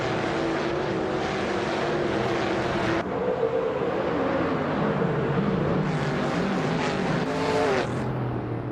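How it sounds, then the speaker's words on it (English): Race cars in an online racing video game, several engines droning and whining continuously at steady volume, with pitch shifts as cars pass and change gear, and no talking. "The race is underway and the top 3 drivers are Bot Miserable Starks in first place"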